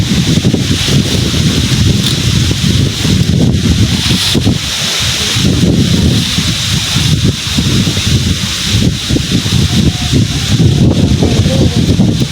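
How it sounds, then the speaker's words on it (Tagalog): Strong outdoor wind roars steadily and rumbles across the microphone, with rustling leaves and blustery gusts sustained throughout and no speech heard. "Kaya malakas po ang hangin."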